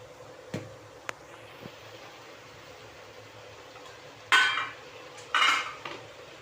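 A spoon scrapes and clinks against a pan while stirring poha, flattened rice, on the stove: a few sharp metallic taps early on, then two louder bursts of scraping, over a faint background hiss.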